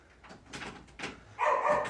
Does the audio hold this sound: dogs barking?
yes